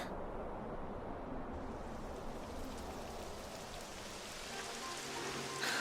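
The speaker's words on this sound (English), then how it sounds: "It would have to go and start raining, wouldn't it?" Steady rain in the video game Dragon Quest XI patters and hisses, building gradually into a broad wash of falling drops, with no voices.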